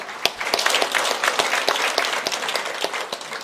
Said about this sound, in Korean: 감사의 박수 한번 올려드립시다